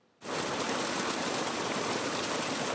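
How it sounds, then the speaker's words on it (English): Water rushing back into a lily pond in San Diego that had been drained for upkeep and cleaning, a dense steady wash that starts abruptly and holds loud and unbroken throughout. "The sound of water returning is welcome news for visitors who noticed something unusual this week."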